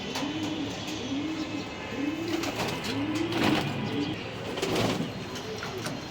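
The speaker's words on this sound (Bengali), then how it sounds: "এই যে দেখেন কবুতর গোসল করতেছে" Racing pigeons coo in a steady repeating rhythm, close by, with occasional splashing and fluttering as they bathe in water.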